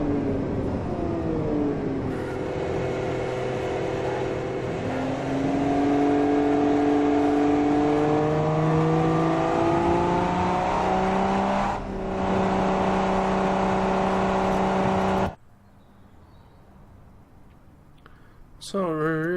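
A slow car in the game Automation circles its test track, the engine note sweeping up through the gears with audible shift breaks. The steady, loud drone cuts off abruptly near the end, leaving near silence, with talk over it.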